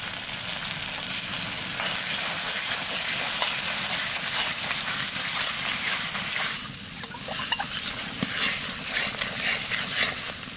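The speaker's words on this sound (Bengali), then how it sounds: "মশলা কষাই নিছি, এইবার মাছ দিয়ে দেবো," Spice paste of ground chilli, cumin, coriander and turmeric frying in a pan for a big crab curry, a dense continuous sizzle close up, with a brief stir or clink partway through.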